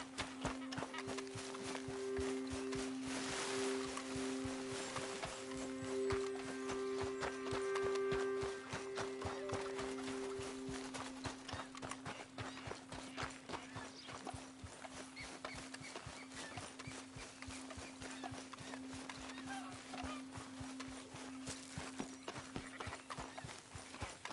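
Horse hooves in Red Dead Redemption 2 clip-clop in a steady, fast walking-to-trotting rhythm throughout, fairly close, with a brief whinny and continuous game background tones underneath.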